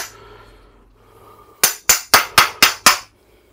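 Six sharp metallic hammer taps, evenly spaced and close, strike the nut on the front shock absorber of a Renault Twingo 1, after a short quiet stretch.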